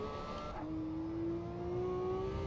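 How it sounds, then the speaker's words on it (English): Car engine in the racing video game Assetto Corsa EVO, close and steady: a sharp tonal drop at a shift, after which the whine climbs smoothly as it builds revs again. "the downshifts, it sounds as brutal as in the real car"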